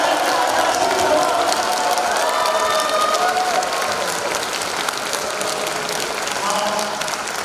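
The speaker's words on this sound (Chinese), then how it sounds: "再次用你们热烈的掌声向我们的演员表示感谢" An audience at a Chinese choir concert in New York applauds warmly, with dense, sustained clapping throughout and faint voices mixed in.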